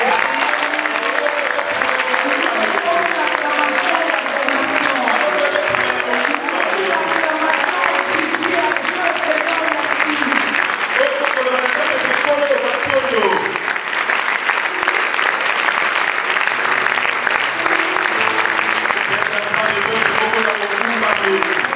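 Church congregation cheers and applauds in worship, a loud continuous mass of clapping and voices with shouting and singing mixed in throughout.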